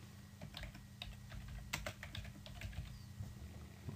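Quick, light keystrokes patter on a computer keyboard as a name is typed, an irregular run of soft, close clicks at low volume.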